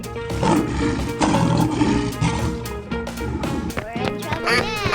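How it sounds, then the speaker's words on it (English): Lion roaring in a 3D animal slide video game, a gritty roar layered over busy game music and sound effects, loud and upfront. "Lion."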